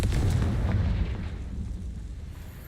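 The Incendio fire spell is cast in the Hogwarts Legacy video game, a loud deep whooshing burst that booms up front and then fades over a couple of seconds, with no talk.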